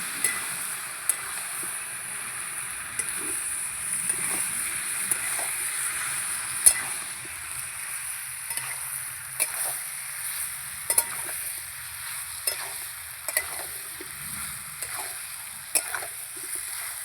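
Potatoes, soybean chunks and spices being sautéed in a pan, a steady sizzle running throughout with scattered scraping stirs and light clinks from the spoon, close and fairly quiet, with no voices.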